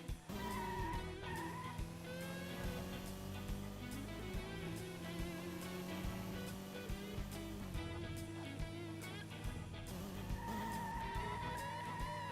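Racing car in Metropolis Street Racer, engine droning steadily through a downshift with a sustained tire skid, loud and continuous over game music, with no talking.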